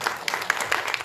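A church congregation claps together during a sermon, a brief burst of many hands with scattered sharp claps standing out, moderately close and fairly steady.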